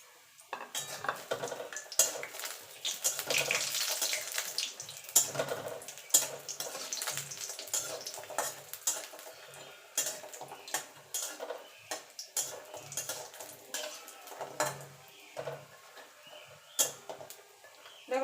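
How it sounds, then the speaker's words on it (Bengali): Lentil dumplings (bori) fry in hot oil in a wok, with a soft crackling sizzle beneath frequent clinks and scrapes of a metal spatula against the pan, uneven and close. "এখানে কটা ডালের বড়ি নিয়েছি, ডালের বড়িগুলো ভেজে নেব।"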